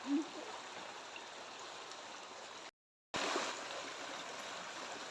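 Faint, steady rush of flowing creek water, with a brief gap of silence partway through.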